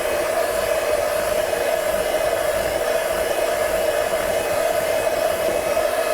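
An electric mixer whisks cake batter with a continuous, steady high whir that holds an even pitch for several seconds without a break, loud and close, with no talking.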